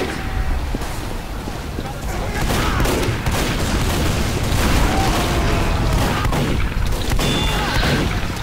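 Dense gunfire and explosions from the video game Team Fortress 2, loud and continuous booms and shots layered together, with a voice talking over the battle.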